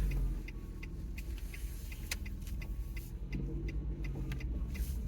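A bin lorry rumbles low and steady nearby as it moves off, heard from inside a car, with faint intermittent clicks and ticks over the continuous engine drone.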